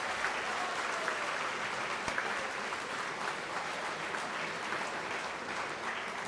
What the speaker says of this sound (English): it's very good of you that you are clapping to every meritorious achiever who have scored